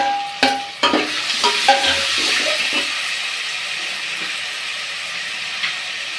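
Tomatoes and green chilies tipped into a pan of already-fried onions for a Tamil fish kuzhambu, with a few sharp drops and stirring knocks at the start before a steady, close sizzle settles in.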